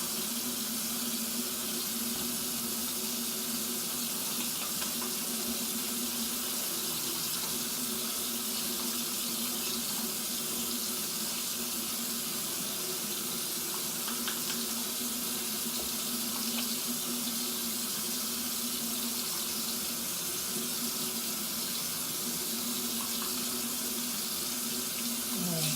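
Water running steadily from a tap at a sink while hands are rinsed, a continuous close hiss and splash lasting the whole stretch with no voices.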